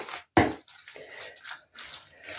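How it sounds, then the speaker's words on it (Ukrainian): Cold water pours in short splashing bursts into a bowl of seasoned minced meat mixture, close up and fairly clear, with brief pauses between pours and no talking. "І гарненько зараз це перемішаю і додам ще сюди холодної води."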